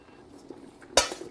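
A metal strainer knocking against a pot while cooked rice is drained for chicken biryani, a faint clatter building to one sharp close clank near the end.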